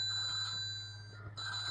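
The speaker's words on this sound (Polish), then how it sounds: "dzwoni telefon." Telephone ringing in the 102 Dalmatians: Puppies to the Rescue video game, an electronic ring tone that holds steady, breaks off briefly and resumes, over a low background hum.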